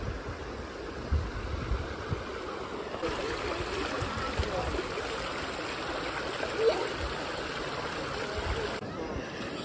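Water flows steadily through the travertine thermal pools at Pamukkale in Turkey, a continuous close trickling and streaming wash with faint background activity.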